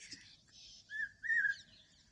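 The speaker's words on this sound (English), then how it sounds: "Listen to that bird." Bird singing a whistled call, two rising clear notes in quick succession, moderately loud and close, over a low murmur of background noise.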